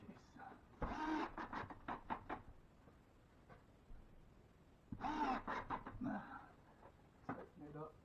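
A screw gun drives screws into old 1970s kitchen ceiling sheetrock in two short whirring bursts several seconds apart, close and fairly loud, with quiet room noise between them.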